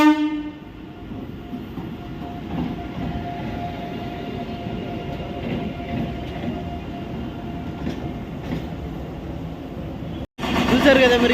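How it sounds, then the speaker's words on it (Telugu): A train rolls past close by a railway underpass under construction in Anantapur, where the earth beneath the track is being dug out. Its rumble and clatter run steadily for about ten seconds, a horn-like tone cuts through, and it ends in a brief cut followed by a louder burst. "అక్కడ ట్రైన్ వస్తూ ఉంది."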